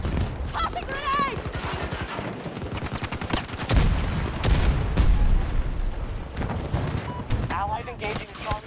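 Rapid bursts of gunfire in a shooter video game crackle steadily and loudly, with a player in a medic role caught under incoming fire, the shots forming a dense, overlapping stream.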